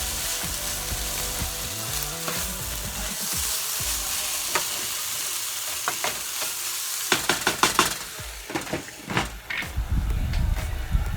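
Ground meat for Filipino-style spaghetti sizzles steadily in a pan, and a spoon scrapes and clatters against it in bursts as the meat is stirred, close up with no talk.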